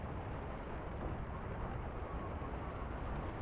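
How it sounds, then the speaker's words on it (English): Steady, dense roar of heavy rain and gusting wind from a video game storm, continuous and broadband with no distinct thunder claps, filling the whole stretch without speech. "Now the storm rages with all noise and wind pattern in the rain."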